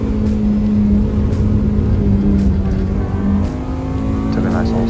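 A Honda car slides through a turn on a racetrack, its engine a loud, close, sustained drone with a shifting pitch as it drifts through the corner.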